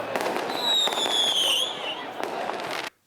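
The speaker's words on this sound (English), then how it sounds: "Just fireworks that people were buying off the street." Roman candle fireworks fired by crowds in a Baghdad street pop and crackle in loud repeated bursts, with a bright whistling tone rising then falling midway, before cutting off abruptly.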